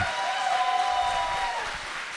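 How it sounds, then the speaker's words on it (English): Crowd applause at a live political debate event in Seattle, a steady, dense wash of clapping that holds evenly throughout with a faint voice underneath. "Keep your applause going for your main man, Donald Trump's worst nightmare, Destiny."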